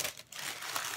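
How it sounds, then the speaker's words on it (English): Paper wrapping crinkles as it is pulled open from a shopping purchase, a close, continuous rustle with a brief pause before resuming, no voices. "And let's pull the paper open."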